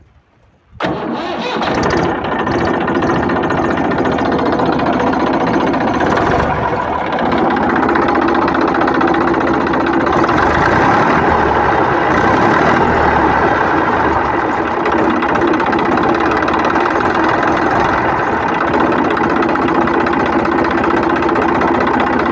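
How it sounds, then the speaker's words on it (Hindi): A tractor's diesel engine cranks and catches, then settles into a loud, steady rumbling idle that continues without a break. "तो अभी हम ट्रैक्टर को स्टार्ट कर लेते हैं।"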